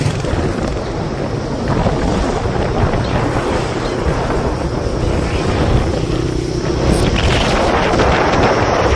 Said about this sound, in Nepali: हावा चाहिँ त्यसरी चलिरहेको छ।